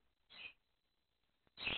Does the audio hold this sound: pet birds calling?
yes